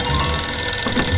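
Telephone ringing in the Sam & Max video game, a loud electronic ring sounding alone and filling the short moment.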